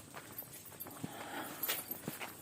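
A horse heavily loaded with gear and carrying a rider clip-clops along at a walk, several faint hoof knocks at an uneven pace over soft background noise.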